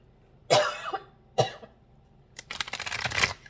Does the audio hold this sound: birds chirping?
no